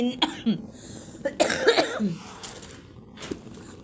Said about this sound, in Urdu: جب سے سردیاں شروع ہوئی ہیں بس کھانسی نہیں چھوڑ رہی ہے